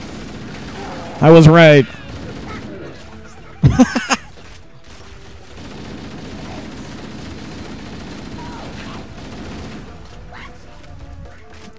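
Gunfire from shooting in the Xbox 360 game Halo Anniversary, two loud short bursts over steady game background, with someone talking in between.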